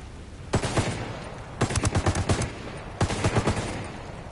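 Bursts of automatic gunfire in the video game Eradicating Sicarios, three separate volleys of rapid shots fired close and loud, with short pauses between them.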